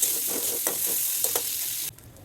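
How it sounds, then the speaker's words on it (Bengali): Shrimp fry in a pan with turmeric, salt and cumin paste, a steady close sizzle broken by a few scraping stirs before the sound cuts off. "এরপর একটু জিরা বাটা দিয়ে একটু কিছুক্ষণ কষাবো।"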